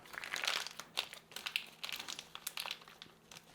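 An Australian patrol ration pouch is folded over by hand. It makes close, crisp plastic crinkles in uneven bursts for a few seconds, with no speech.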